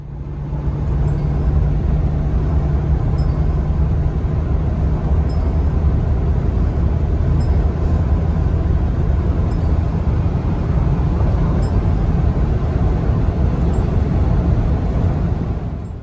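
A Mahindra Scorpio N SUV cruising at highway speed up to 150 km/h, with loud, steady engine drone, tyre roar and wind noise filling the cabin continuously without any voices.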